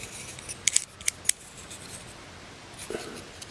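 Scissors cut around a template for a Velbon camera carrier plate, giving a few sharp, close snips in quick succession followed by a faint rustle.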